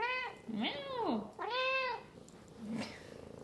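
A cat meows repeatedly, with rising and falling calls close by, and a soft voice answers in between.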